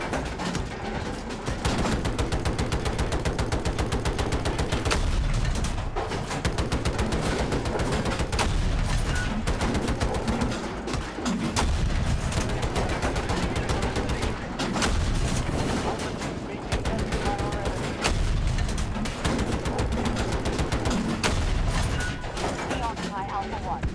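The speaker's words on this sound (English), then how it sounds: "I'm trying to shoot the base." Dense, continuous gunfire in a military video game, fired at an enemy base, with rapid shots and booms layered over constant battle noise and talk.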